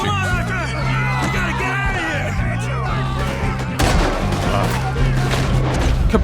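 Gunfire in the Red Dead Redemption 2 video game, a loud rattling fusillade of shots mixed with yelling voices and game music, growing denser partway through.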